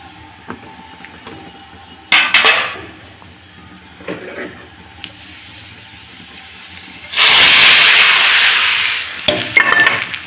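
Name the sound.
fried onions added to cooking dal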